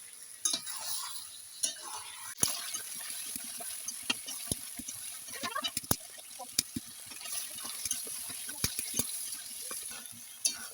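Desi chicken is braised and stirred in a pot with a little water. A soft bubbling sizzle runs underneath while sharp ladle clacks and scrapes against the pot repeat irregularly throughout, close and fairly quiet.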